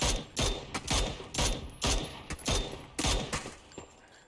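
Rapid bursts of gunfire crack through a PUBG match, about eight sharp shots in quick irregular succession, loud and close with brief decaying tails between them.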